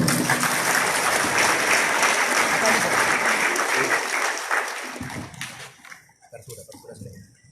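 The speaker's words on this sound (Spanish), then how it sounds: "Aquí decimos con fuertes aplausos." Loud, dense applause from a crowd at a regional assembly of peasant patrols in San Martín, sustained for several seconds before thinning out and fading as a voice begins.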